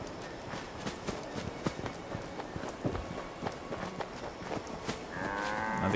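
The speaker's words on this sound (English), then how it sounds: "Another cow." A cow in Fallout 76 moos amid scuffling footsteps and game ambience, with a louder, sustained moo rising near the end.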